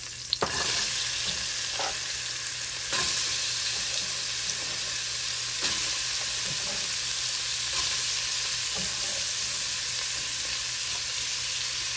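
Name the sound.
onions and green chillies frying in a pan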